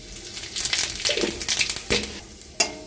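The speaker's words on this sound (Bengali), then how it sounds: "এই ফোড়নটা আমি 30 সেকেন্ড মতো একটু নেড়ে দিয়ে ভেজে নিলাম।" Bay leaves, a dried chilli, whole garam masala and cumin fry in mustard oil with a close, crackly sizzle, broken by sharp scrapes and pops as a utensil stirs the pan.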